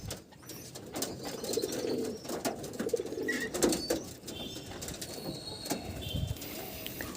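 Pigeons cooing softly in a loft, low murmuring coos layered with scattered rustles, wing flaps and faint chirps close by.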